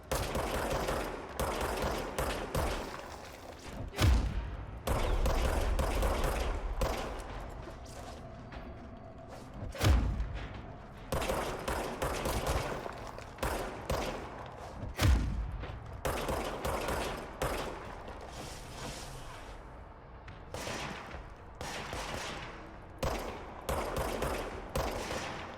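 Gunfire from a revolver-like sidearm in the video game Control, heavy booming shots and rapid bursts recurring every few seconds, loud and close, with ringing tails between them.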